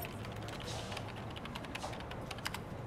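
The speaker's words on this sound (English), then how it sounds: "What are you typing?" Computer keyboard typing in the RoboCop: Rogue City game, a steady stream of quiet, rapid key clicks with no speech over them.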